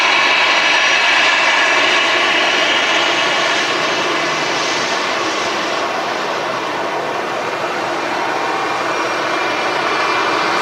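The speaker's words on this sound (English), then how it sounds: "Here's the EasyJet catching this one." An EasyJet airliner roars past at Manchester Airport in the evening, its jet engines a loud, sustained broadband rumble and whine that holds steady throughout without any voices.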